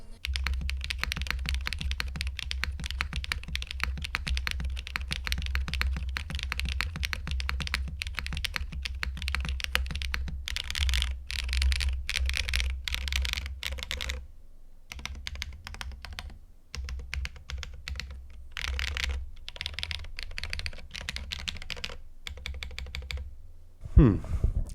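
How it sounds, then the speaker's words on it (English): Rapid, steady typing on a Tech Bear TB8-TKL mechanical keyboard fitted with gasket strips, dense close key clacks with a low hum beneath and a few brief pauses. "we'll swap back to the gasket strips now and see how much of a difference that makes in the sound profile"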